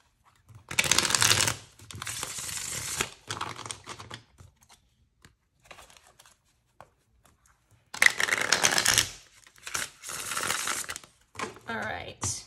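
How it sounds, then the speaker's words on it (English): Tarot cards being shuffled by hand in two bursts of crisp riffling and sliding, each burst lasting a few seconds with a quieter stretch of faint handling between them. "But I'm going to put them back in and keep shuffling."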